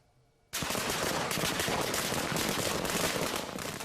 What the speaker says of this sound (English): people celebrate with massive amounts of fireworks